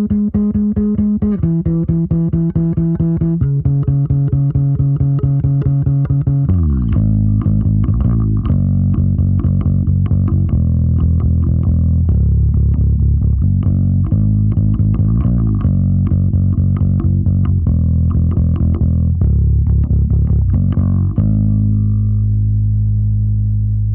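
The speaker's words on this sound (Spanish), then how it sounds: "Ahora escuchemos otra opción para procesar el bajo." Bass guitar run through a Heritage Audio Successor bus compressor at a gentle 3:1 ratio, playing a steady sustained line with a thicker, busier passage mid-way, loud and continuous with no talking.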